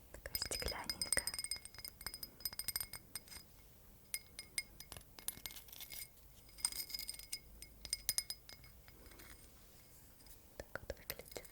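A small glass souvenir cup from Turkey is handled up close as an ASMR trigger, giving delicate clinks and taps in irregular bursts beneath soft whispering.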